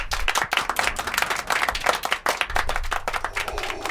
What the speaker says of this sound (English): here's your round of applause